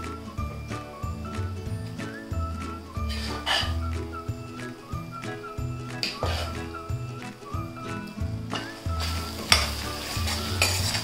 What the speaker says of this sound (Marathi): आता ही स्मॅश केलेली भाजी टाकून घेऊया।